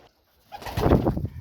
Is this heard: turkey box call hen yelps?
no